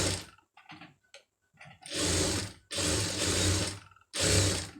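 A sewing machine stitches a quarter-inch folded hem on plain cloth, starting with a few short, hesitant runs before three longer, loud, steady bursts of rapid mechanical clatter, close by.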